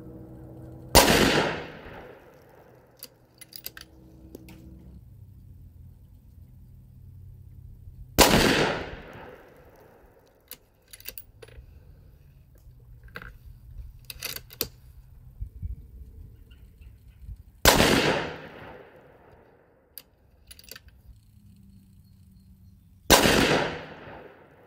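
Rifle fired during an accuracy test of action screw torque: four sharp, loud shots spaced several seconds apart, each ringing out with a short decaying echo over quiet outdoor background.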